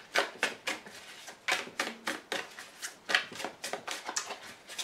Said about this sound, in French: Et encore une carte de retournée.